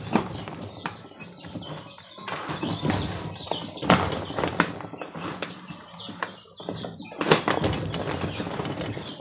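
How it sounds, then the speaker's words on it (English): Hands squish and knead a homemade turkey stuffing mixture moistened with broth, giving irregular wet squelches and slaps in close, uneven bursts with no talking. "get some good squishes in there"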